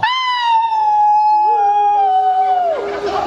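A human voice imitates a howling dog: one long, loud, close howl held steady with a gliding pitch that dips and wavers toward the end, with no other sound behind it.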